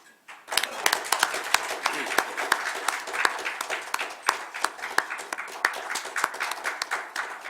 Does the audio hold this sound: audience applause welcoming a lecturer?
yes